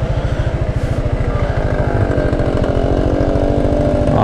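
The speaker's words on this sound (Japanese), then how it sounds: "あのバイクです、ジャイロアップ。 すごい音するね。" A Honda Gyro Up scooter fitted with a loud chamber exhaust idles and revs nearby at an Osaka street, a harsh buzzing two-stroke rattle with a fast, steady pulse.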